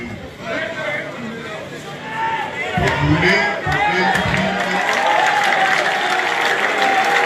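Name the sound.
crowd cheering and applauding at political rally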